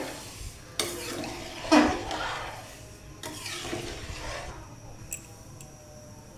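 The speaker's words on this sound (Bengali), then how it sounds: "এটাকে মিক্সড করে নেব একসাথে।" A spoon stirring boiled chickpeas (chotpoti mixture) in a cooking pot, wet scraping and squishing strokes in a few bursts, close and moderately loud, with a faint clink near the end.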